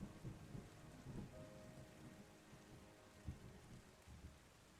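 Rain falls in the video game Terra Nil, a faint, even hiss of falling water with soft low rumbles of thunder rolling beneath it, and no talk.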